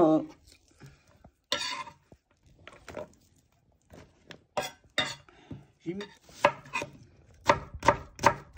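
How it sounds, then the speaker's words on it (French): A knife slicing onions and carrots on a board, in irregular bursts of quick chops between pauses, close and clear, with some faint clinks. "j'ai mis 4 oignons et 5 carottes que j'émince de cette façon"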